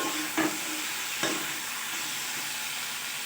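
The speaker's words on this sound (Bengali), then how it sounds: "এবার ঢাকা খুলে নেড়ে নিচ্ছি" Drumstick curry (sajne data chochchori) is stirred in a pan under a steady soft sizzle, with two distinct scraping strokes near the start and a fainter one later, and no talking.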